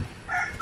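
Rescued backyard chickens make a short, close clucking call, a brief raspy burst over a low rumble of background noise.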